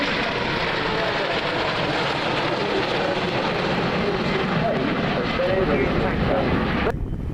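A Boeing KC-767 tanker aircraft at the RIAT airshow at RAF Fairford in 2013 roars steadily overhead, a loud broad engine rumble under a commentator's voice over the public address, cutting off abruptly near the end.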